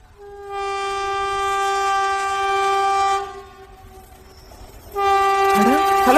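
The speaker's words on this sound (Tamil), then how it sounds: "ட்ரெயின் சத்தமே கேட்கலாம்." A passing train sounds its loud, sustained multi-tone horn for several seconds, pauses amid rumbling wheels and rail noise, then blasts the horn again, close and dominant over a steady mechanical roar.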